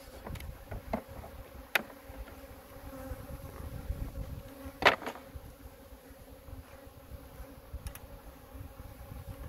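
A soft, steady buzz of many honeybees around a hive with a laying worker, with a few faint clicks and knocks from handling frames nearby.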